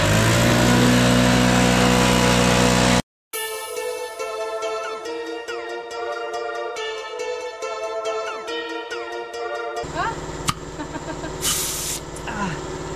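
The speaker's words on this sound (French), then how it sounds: "Alors du coup je dégrossis avec le souffleur" An air blower cleaning a Forst ST6P wood chipper gives a loud, close, roaring hiss that cuts off abruptly, followed by a steady whining engine drone with a humming tone and occasional sharp bursts of air.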